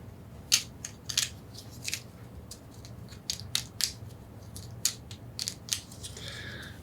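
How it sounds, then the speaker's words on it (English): Board game cards for the game Shipyard are shuffled and handled on a table in short crisp riffles and snaps, several quick bursts separated by pauses, close and fairly quiet. "So we're going to shuffle these up."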